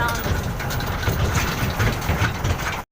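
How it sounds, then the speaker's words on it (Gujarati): Close, loud chugging of a tractor engine running steadily, with a faint voice underneath before it cuts off abruptly. "હવે જો ટ્રેક્ટરમાં ઘરે જઈએ છીએ"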